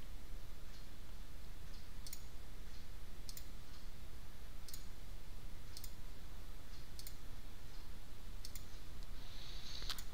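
Mouse clicks from picking colour shades with an eyedropper tool in Final Cut Pro, a handful of sharp, evenly spaced taps over a steady background hiss.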